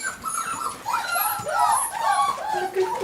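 A 6.5-week-old puppy whimpers and yips in short, high, rising cries, close and fairly loud, with a few quick yelps toward the end and no talk over them.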